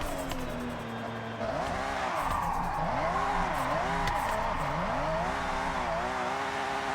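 Car drifting in Forza Horizon 6, played on a wheel, with a continuous tire squeal that wavers up and down as the engine revs rise and fall, loud and close, no talk.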